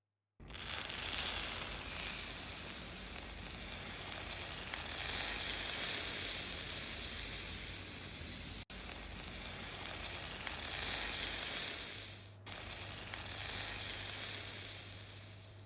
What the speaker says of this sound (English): Immediately and evenly pour the cool syrup over the piping hot baklava. You should hear that satisfying sizzling sound.